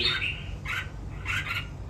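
Red-whiskered bulbul chicks bred in captivity squawk in short, harsh bursts, three close raspy calls separated by brief pauses, over a low background hum.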